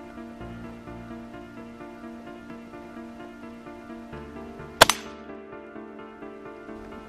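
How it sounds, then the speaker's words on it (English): A single sharp rifle shot fired freehand at night at a backyard range, one loud crack with a brief ringing tail, standing out over a steady humming background. "I'm just going to shoot this rifle freehand while holding the light here."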